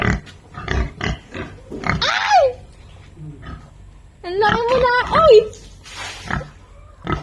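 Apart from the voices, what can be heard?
pigs grunting on a farm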